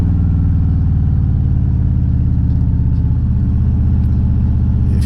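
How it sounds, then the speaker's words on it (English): A big Harley-Davidson V-twin motorcycle engine with an aftermarket exhaust idles close and loud, a deep, steady throb that shifts slightly in pitch partway through. "With the aftermarket exhaust, it sounds like what a Harley-Davidson should sound like."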